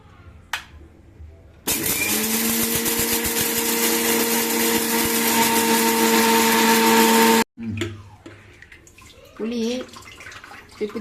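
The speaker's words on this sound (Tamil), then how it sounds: "இது மிக்சியில் கொட்டி நல்லா அரைச்சிக்கலாம்" A mixer grinder grinds roasted spices for puliyotharai in a steady, loud motor whine lasting about six seconds, then stops abruptly, followed by quieter kitchen handling noises.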